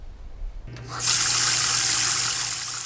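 A household tap is turned on for tooth brushing and runs in a steady, loud hiss that continues to the end without pause, with a low hum underneath.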